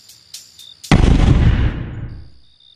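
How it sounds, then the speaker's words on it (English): A single loud cartoon explosion bursts suddenly after a few light chimes, then its booming rumble decays over about a second before a soft tone returns. "That seems to be some explosion."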